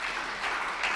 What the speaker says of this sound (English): can we have an applause for this remark?